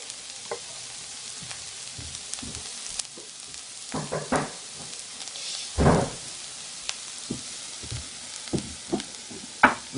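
Turmeric, cumin and chili sizzle in a tomato fondue pan with a soft, steady frying hiss, broken by scattered stirring clatters and a louder scrape, close and moderately quiet.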